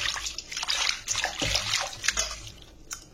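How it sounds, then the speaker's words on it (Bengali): Leaves and flowers being washed by hand in a large bowl of water, with close, continuous sloshing, splashing and dripping that swells and fades in irregular bursts. "তো পাতা আর ফুলগুলোকে আমি ভালো করে ধুয়ে নেব।"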